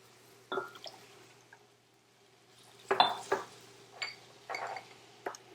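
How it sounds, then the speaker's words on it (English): Soy sauce, water and other sauce ingredients go into a bowl in a home kitchen, with scattered clinks of dishes and utensils and small liquid drips in short bursts, close by in a quiet room. "While Mark's browning the chicken, I'm going to make the sauce"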